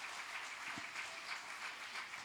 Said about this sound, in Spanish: Fuertes aplausos al Señor.